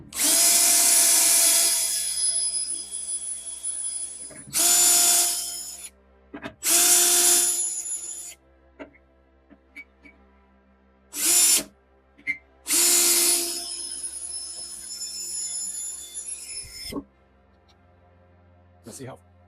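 Power drill boring into the front apron of a 1968 VW Beetle with a replacement bit, whining in several loud bursts of a few seconds each, separated by short pauses and a quieter stretch near the end.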